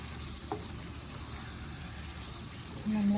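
Chicken chukka sizzling and frying steadily in a small amount of oil left from fried onions, a continuous soft crackle with a brief louder bump near the end.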